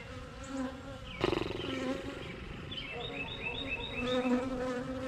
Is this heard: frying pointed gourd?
no